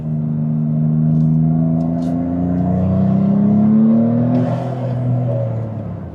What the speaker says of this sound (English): A lot of intake noise.